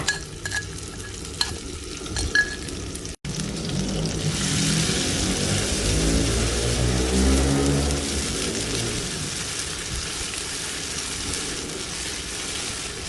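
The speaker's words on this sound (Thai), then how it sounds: "ใส่น้ำมันลงไปเล็กน้อยค่ะ จากนั้นก็ใส่เครื่องค่ะลงไป และขั้นตอนนี้นะคะ เราก็จะผัดกระเจียวเครื่องนะคะ" Curry paste aromatics stir-frying in hot oil in a wok for a Thai stir-fried morning glory with shrimp paste and minced pork, a loud steady sizzle with scraping stirring strokes throughout, no talking.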